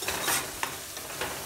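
Spicy food being mixed in a pan, a continuous sizzle broken by repeated scraping stir strokes, close and fairly loud, with no talking.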